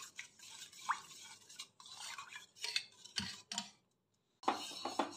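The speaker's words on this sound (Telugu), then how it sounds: "ఇది బాగా థిక్గా బాయిల్ అయ్యే వరకు మనం తిప్పుతూనే ఉండాలి." Spoon stirring milk as it slowly boils in a pot for badam kulfi, giving repeated scraping and clinking strokes at close range with brief pauses, no talking.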